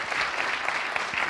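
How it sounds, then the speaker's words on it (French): Brief burst of audience clapping at a national business award ceremony, dense and fairly loud, honoring a winning team. "Oui, vous pouvez l'applaudir."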